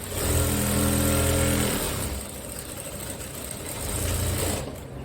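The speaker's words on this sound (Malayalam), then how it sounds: "ഇനി സ്ട്രെയിറ്റ് ആയിട്ടാണ് ഞാൻ സ്റ്റിച്ച് ചെയ്ത് എടുക്കുന്നത്" A sewing machine runs a straight seam with a rapid, whirring mechanical stitching buzz up close, pausing briefly in the middle and then starting up again.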